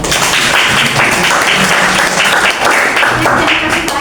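Classroom applause for a student named Farhan in a sociology lesson, loud dense clapping from many hands lasting throughout, with some voices mixed in.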